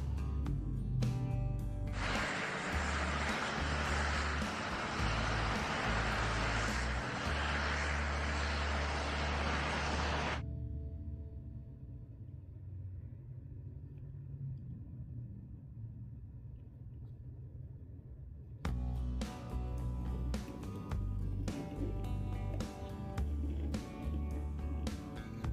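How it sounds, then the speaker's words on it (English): A dump truck engine rumbles heavily and steadily. A loud, broad roar holds for several seconds, eases to a lower drone, then surges again near the end. "Dump truck."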